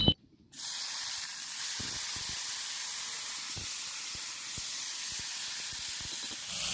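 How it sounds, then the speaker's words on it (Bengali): Green chillies and elephant foot yam stalks frying in oil, a loud, steady hissing sizzle that starts abruptly after a brief pause and keeps going, with faint pops and crackles throughout. "এবার আমি লঙ্কা আর ওলের ডাটাটা ভেজে নেব"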